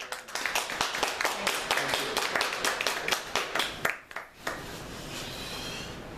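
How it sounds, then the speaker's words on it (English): A warm round of applause at a community meeting: dense, brisk clapping from a small crowd that holds steady for about four seconds and then tapers off into room noise. "Please give a warm round of applause"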